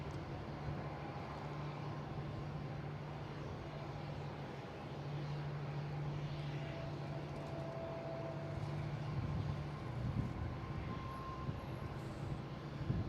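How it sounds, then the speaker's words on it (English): A Southwest airliner lands on runway 27 at Boston Logan airport, a steady distant jet roar with a low engine drone, slowly swelling toward the end, heard alone without speech. "Next coming in is Southwest from Nashville. Landing on 27."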